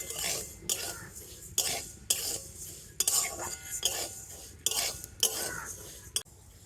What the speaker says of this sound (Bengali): হালকা জালে চালটাকে এইভাবে নাড়াচাড়া করে নেব।